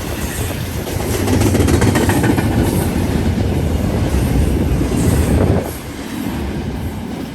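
An intermodal freight train rolls past close by with a loud, steady roar and rhythmic clatter of wheels over rail joints, easing to a quieter rumble near the end.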